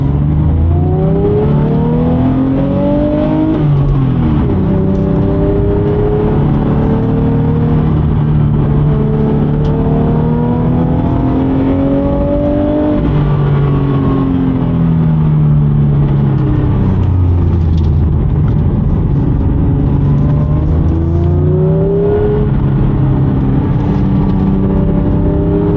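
A Porsche 911 Speedster accelerates hard on the road, its engine rising through repeated revving climbs with gear changes, loud and close from inside the car for nearly half a minute.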